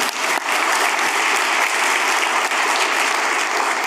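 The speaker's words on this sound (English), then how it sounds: "let's clap for that" Dense, sustained applause from a large audience at a conversation event, loud and even throughout without a break.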